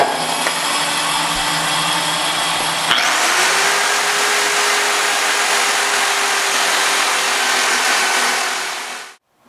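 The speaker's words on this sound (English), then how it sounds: "how we deglaze this tire with a grinder" An angle grinder deglazing a new racing tire for a dirt modified race car, a steady loud whirring hiss that shifts pitch as the grinder bites in after a few seconds, then stops abruptly at the end.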